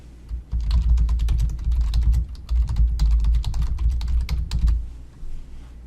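Steady keyboard typing on a computer while a comment is entered into a PDF annotation, with continuous close key clicks running for about five seconds before stopping.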